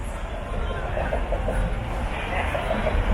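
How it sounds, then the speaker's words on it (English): A tram runs through the streets of Christchurch town with a steady rumble and faint rail clatter, heard from close by over the street noise. "Love the trams that go through the town."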